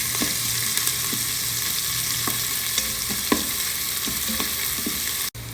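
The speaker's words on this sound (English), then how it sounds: "saute it well" Slit green chilies and sliced onion sizzle and fry in a Solara Magic Pot, a steady close hiss with occasional light clicks of stirring.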